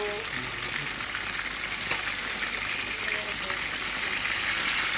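Chicken wings fry in a pan with a loud, continuous hiss and crackle. The sizzle holds steady the whole time, with no talking over it.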